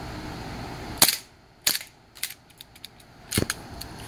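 A gas-powered Hi-Capa 1911 airsoft pistol fires three sharp, loud cracks about a second apart, with faint mechanical clicks and ticks between them and no talk.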